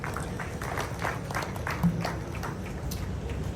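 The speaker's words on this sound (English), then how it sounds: "shall we do a big round of applause for him?" Audience applause at a World Press Day event, fairly faint clapping from a crowd with a low background hum, steady and somewhat distant.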